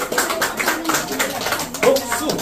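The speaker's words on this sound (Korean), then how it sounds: "박수." Applause from a crowd at an outdoor Korean song festival, steady clapping throughout with a voice speaking over it.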